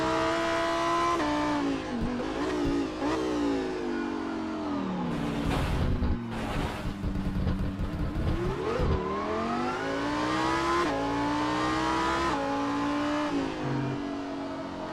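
A Lamborghini STC race car recorded onboard at Laguna Seca, its engine loud and close, rising and falling through shifts, with rough bursts from braking and corner entries and tires scrubbing at times.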